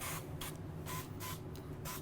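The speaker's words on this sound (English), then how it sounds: "I'm just going to spray this bird" Duck fat is sprayed onto a dried turkey's skin from a nearby aerosol can in about six quick hissing bursts, evenly spaced over a low steady background hum.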